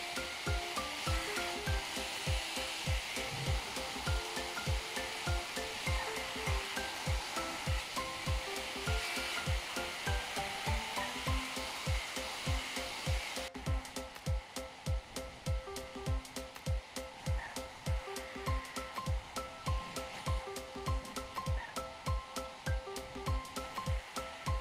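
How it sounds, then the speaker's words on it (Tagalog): A hair dryer blows steadily for a long stretch during a home hair rebonding treatment, its whir mixed with rhythmic brushing or rubbing strokes. "At ako ay mag-blower na"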